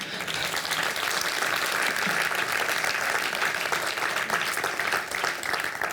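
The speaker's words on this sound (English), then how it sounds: "round of applause for them" A theatre audience at a ballet masterclass claps steadily for dancers, a dense, even wash of applause lasting several seconds without voices.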